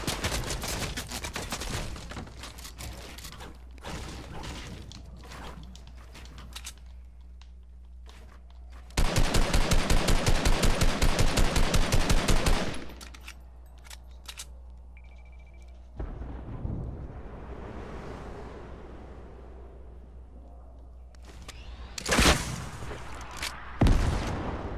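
Gunfire in the video game Junkrift, scattered single shots, then a loud sustained automatic burst, quieter distant shots, and a final close volley, no talk.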